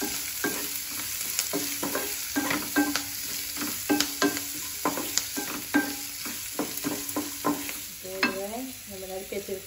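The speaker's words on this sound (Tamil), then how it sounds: "வெங்காயம் கொஞ்சம் வதங்குற அளவுக்கு நம்ம வதக்கிக்குவோம்." Onions sautéing in a pan for red flattened rice uppuma, with frequent spatula scrapes and stirring clatter over a low sizzle, close by, with no talking.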